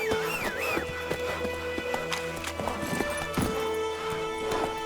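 A horse gallops in The Witcher 3 video game, its hooves clip-clopping in a quick, even rhythm up close, with a brief whinny and game ambience around it.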